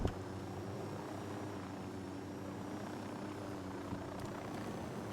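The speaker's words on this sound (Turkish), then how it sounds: "helikopteri buraya park edeceğim" Helicopter in the video game Ghost Recon Wildlands, a steady loud rotor and engine drone holding evenly throughout with no talk over it.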